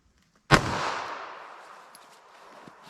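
A single sharp report from a .380 ACP pistol fired into ballistic gel, close and loud, with a bright crack followed by a long decaying echo that trails off over two seconds.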